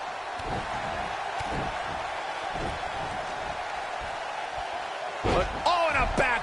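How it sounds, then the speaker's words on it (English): A wrestling backbreaker slam in WWE 2K19 lands as a sharp, heavy thud near the end, following a run of lighter impact thumps while a commentator talks throughout. "Oh, and a backbreaker."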